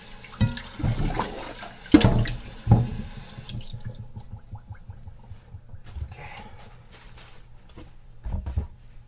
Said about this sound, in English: I just run water over it.